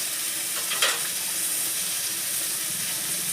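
Tomatoes sizzle in a pan on a cooking stove as a splash of water goes in, giving a brief burst early on and then a steady, close hiss of steam and frying.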